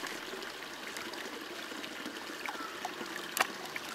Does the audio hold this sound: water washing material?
yes